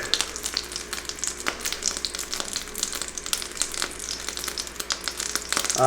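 Food sizzling and spattering in a frying pan during a home cooking session, with a steady crackling hiss and sharp pops of splashing fat, close and loud, with no talking.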